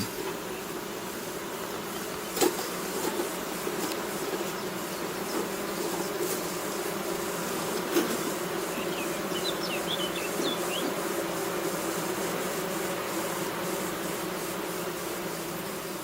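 Honeybees buzzing around an opened beehive, worked without a smoker, a dense steady hum close by that holds for the whole span, with a few faint clicks and no talk.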